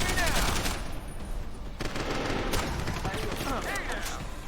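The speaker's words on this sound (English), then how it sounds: "Gunshots!" A sustained exchange of automatic gunfire in the video game Deus Ex: Human Revolution, with loud overlapping bursts and sharp individual cracks filling the whole stretch, a brief lull in the middle.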